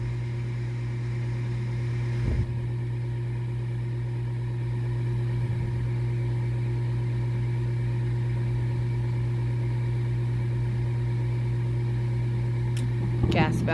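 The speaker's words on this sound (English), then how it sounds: "The inducer comes on." A furnace draft inducer motor runs steadily throughout, a constant mechanical hum and whine from a short-cycling gas furnace, with brief clicks near the start and end.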